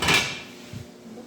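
A cooking pot on the stove in a Middle East kitchen gets its lid set down with a short, close clatter, then a quieter knock follows in a fairly quiet room.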